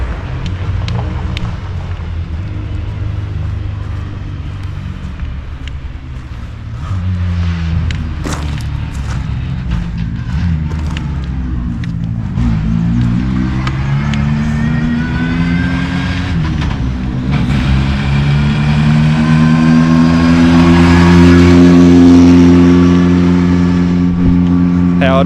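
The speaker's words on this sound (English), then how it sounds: "you just listen to the cars" Rally cars from the Australian Rally Championship heard from inside, a loud sustained engine drone with rising revs and harmonic whine, occasional thumps and clunks from the car, and speech running over it.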